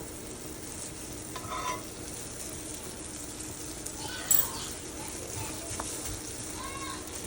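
Butter-soaked bread for a tuna melt toasting in a hot pan, giving a steady, low sizzle throughout with a few faint clinks and a brief scrape partway through.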